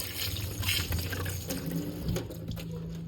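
Tap water running steadily into a sink while seasoning for baked chicken is washed, with splashing and small clatters, close and continuous.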